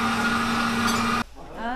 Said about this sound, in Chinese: 我拿那个苞米，打那个苞米汁儿喝